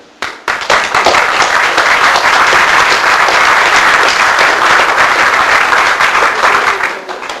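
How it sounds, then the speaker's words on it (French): Sustained applause from a large crowd at a decoration ceremony, dense and steady throughout, rising quickly at the start and tapering slightly at the end. "je voudrais les applaudir pour leur travail"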